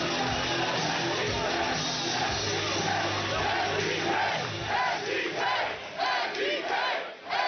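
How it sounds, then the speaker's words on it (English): A wrestling crowd roars in a deafening, sustained ovation for Nick Gage, a dense wall of cheering and chanting with shouted voices rising in waves that swell and dip toward the end. "A deafening ovation for Nick Gage."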